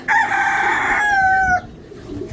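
A rooster crows once, loud and close, a long drawn-out call that breaks off sharply, with ducks and hens let out of their shed on a hot morning.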